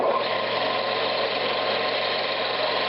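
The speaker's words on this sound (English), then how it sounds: "Got the lathe turning pretty fast." A wood lathe spins a spalted pecan bowl at high speed, giving off a steady, even mechanical whir that stays constant and close with no voices.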